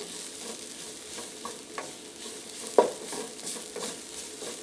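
Whole spices fry in a hot, dry pan for a coconut crab curry ramen, giving a steady low sizzle with soft stirring scrapes and one sharp clink partway through, heard alone at close range.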